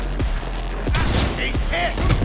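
Gunfire bursts in Cyberpunk 2077 combat, several sharp shots and rattling volleys spaced across the moment, with someone talking over the action.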